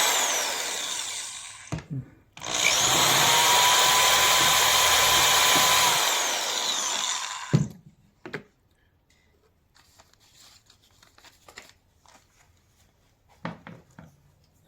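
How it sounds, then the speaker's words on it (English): A power drill bores a shallow pilot hole for bridge panel framing, whining loud and steady for about five seconds after a brief first burst, then stopping, followed by faint scattered handling clicks. "But I only need a pilot hole."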